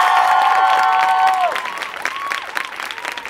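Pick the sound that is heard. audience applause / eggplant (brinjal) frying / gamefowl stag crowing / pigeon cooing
audience applause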